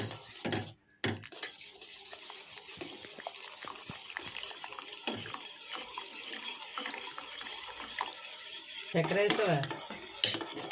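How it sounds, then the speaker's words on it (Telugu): A utensil stirs custard powder into milk in a pot as it thickens, with steady, continuous scraping and swishing and occasional clinks, close by, with no talking. "ఇది కొంచెం థిక్నెస్గా దగ్గరగా అయ్యే వరకు కూడా బాగా కలుపుతూ ఉండాలి"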